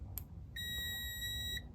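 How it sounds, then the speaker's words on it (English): A multimeter's continuity tester beeps once in a single steady, high electronic tone lasting about a second, preceded by a brief click as the leads touch. "when you touch the leads, it's supposed to beep"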